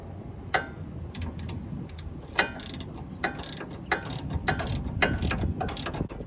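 A ratchet wrench tightens the nut on a MOOG front sway bar link on a Honda Element, giving a close run of quick, repeated mechanical clicks that grow slightly louder.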